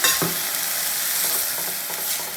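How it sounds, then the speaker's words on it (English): Broth poured onto risotto rice with zucchini in a hot pan, a steady bright sizzle with a big spoon stirring and scraping in short strokes, close and with no talking. "you start adding broth to the rice"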